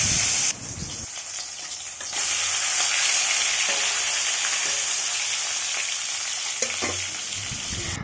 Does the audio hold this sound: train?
no